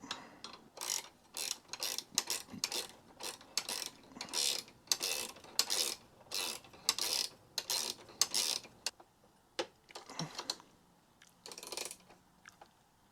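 A ratchet wrench tightens the nut on a modified tie rod, giving repeated short bursts of clicking with brief pauses between strokes, close and fairly loud, finishing with a few slower clicks.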